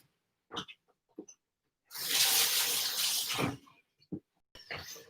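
Tap water runs for about a second and a half over a dropped chicken wing being rinsed during home fried chicken cooking, a steady splashing rush framed by brief handling clicks and soft breaths.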